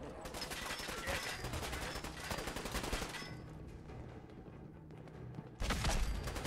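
Gunfire in the video game Fallout 4 during a fight with Skinny Malone's gang. A dense, continuous stream of rapid shots and automatic bursts plays at moderate loudness, eases off briefly, then resumes with a heavier burst at the end.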